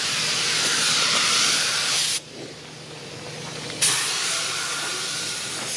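A rattle can sprays paint onto an IMCA Hobby Stock car body, producing a steady hiss, a short pause, then another sustained spray burst, close and fairly loud with no talking.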